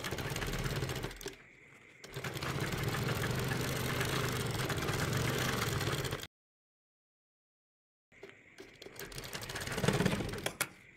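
A sewing machine stitches piping onto a shirt collar in two loud, close bursts of rapid mechanical whirring, split by a few seconds of silence before the motor starts up again.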